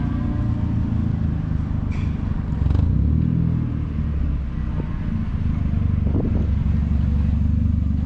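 Hyundai Getz car idling and rolling in after a track shakedown run, a steady close engine drone with a few faint clatters, no speech.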